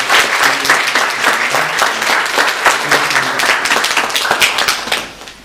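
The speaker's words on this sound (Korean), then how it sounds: "박수로 축하하고 축하합니다" A church congregation at a Sunday service applauds in celebration, loud, close and dense clapping that holds steady for several seconds and then tapers off at the end.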